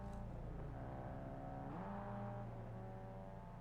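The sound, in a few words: cars driving by in a video game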